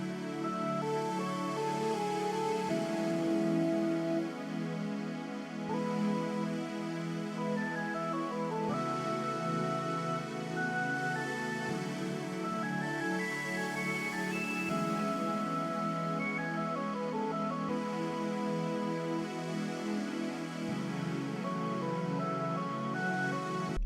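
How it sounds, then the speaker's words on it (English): An FL Studio beat in an ethereal style: a bright synth lead melody runs over sustained pad chords, dense and continuous at an even, moderate level, with the pattern looping and shifting every few seconds and no voices. "So the lead with the chords sounds like this."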